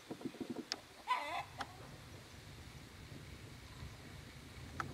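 A hen that has just laid eggs gives a few sharp, short cackling calls near the start, then the farmyard settles into a low, steady background with scattered faint clicks.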